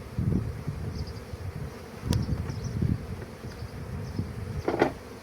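Honey bees buzzing around a hive, a dense steady drone with individual bees passing close, plus a couple of brief clicks and knocks.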